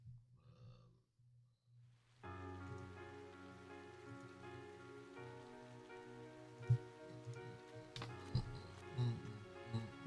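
Steady rain ambience from the video game Trails of Cold Steel hisses softly under sustained tonal game music, with a few louder thumps toward the end.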